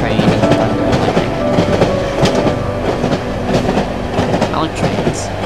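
A train ride in the horror video game Cry of Fear, steady rumbling with rhythmic clickety-clack of wheels over rail joints, loud and close throughout.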